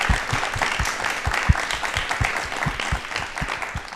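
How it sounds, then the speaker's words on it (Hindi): An audience at a televised talk show applauds, a loud sustained clapping with distinct, fairly regular hand-claps standing out across the whole stretch. "तालियां जोरदार होनी चाहिए"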